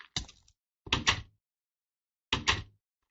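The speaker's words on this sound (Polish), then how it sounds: "Nie zamykaj mi tych drzwi." Blocky doors in the video game Minecraft clack shut in three short, crisp knocks, the first two close together and the third after a pause, clear and near with no talk.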